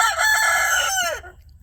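A rooster on a homestead lets out one loud, close crow that rises, holds, then trails off into quiet farmyard ambience.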